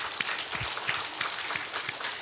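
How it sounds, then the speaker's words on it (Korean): Congregation in a Sunday church service applauding, a short burst of scattered claps with distinct individual hand strikes over a soft background wash. "박수 한번 쳐주세요."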